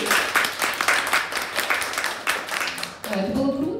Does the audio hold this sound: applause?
yes